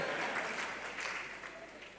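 A small crowd claps over and over in a dense, even patter of applause that swells and fades a little, and a faint voice can be heard underneath.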